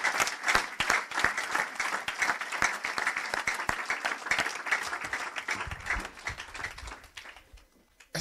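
A church congregation at a Christian service in Evry breaks into sustained applause, a dense patter of many hands clapping that holds steady for several seconds, then thins out and fades near the end.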